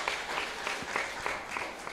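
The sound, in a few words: applause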